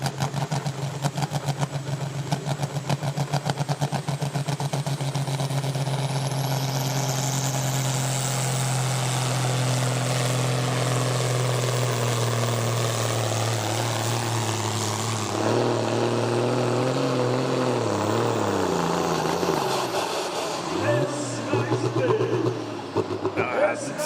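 A pulling tractor from the 3.6 ton Super Sport class roars continuously and loudly, its engine note climbing and sweeping in pitch during the pull before dropping off and turning rough near the end, with a commentator talking over it.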